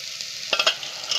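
Chickpeas drop into golden brown onions frying with cloves and cinnamon, a short sizzle that jumps into a few quick stirring scrapes and spatters over a continuous frying hiss.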